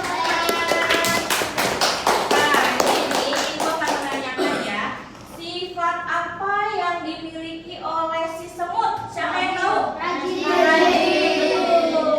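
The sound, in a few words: clapping for a child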